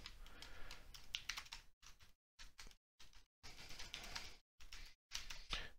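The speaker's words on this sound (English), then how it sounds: "That's where you start typing." Rapid clattering keystrokes on a computer keyboard in several bursts separated by short pauses, close and clear.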